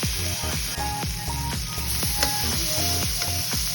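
Blanched cauliflower florets hitting hot masala in a pan, a steady close sizzle and frying hiss with repeated stirring scrapes throughout, no voices.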